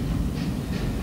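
Restored 3801 steam locomotive, a 38-class engine introduced in 1943, runs on the line with a steady rolling rumble and faint rail clatter, no voices.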